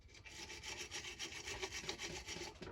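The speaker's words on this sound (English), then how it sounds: "we'll clean all the heavy grease and take some of this carb cleaning, try to get back in there" Heavy grease is scrubbed off a two-stroke power auger with carb cleaner, a faint, steady, rhythmic rasping of repeated brush strokes.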